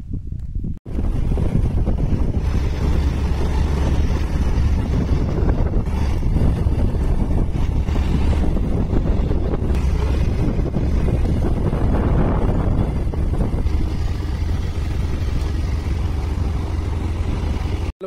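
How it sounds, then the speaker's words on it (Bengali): Strong wind blows across the hilltop at Bardi Pahar in Bankura, a loud, continuous buffeting roar against the microphone that gusts unevenly throughout. "পুরো সুন্দর বাতাস বয়ে চলেছে।"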